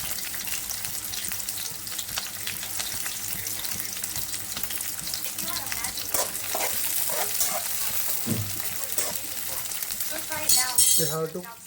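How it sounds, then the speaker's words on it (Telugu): Chopped onions fry in a pan for noodles, a continuous sizzle with stirring, running tap water and brief talk in the background. "ఇవి బ్రౌనిష్గా ఆనియన్స్ అయ్యేంత వరకు వేయించుకొని"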